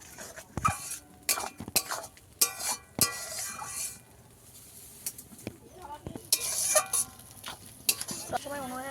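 A spoon stirs and scrapes chicken curry masala with potatoes in a pan, making sharp clinks and knocks among a light sizzle, while a person talks over it.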